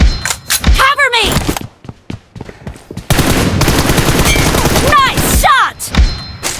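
Gunfire in the PUBG video game: bursts of automatic rifle fire, then a long sustained stretch of rapid shooting, loud and close, with voices talking over parts of it.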